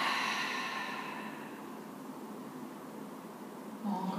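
A long steady exhale of breath during a glute exercise, a soft breathy rush that slowly fades, followed by the start of another breath near the end.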